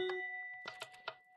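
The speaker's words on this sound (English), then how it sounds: "we're gonna do chimes" Minecraft note blocks set to the chime sound, a few bright bell-like tones struck in a quick, uneven run, clear and alone with nothing else around them.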